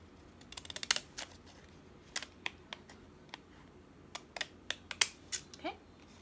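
Paper trimmer cutting a Dollar Tree note card, a series of sharp, crisp clicks and slicing strokes in short bursts, close and fairly quiet over a soft background hiss.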